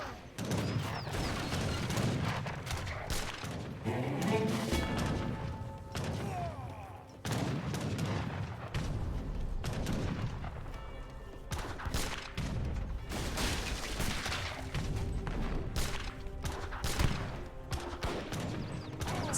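Massed gunfire pounding heavy cannons in an Age of Empires 3 battle, a dense, continuous crackle of musket volleys and booming impacts layered over each other throughout.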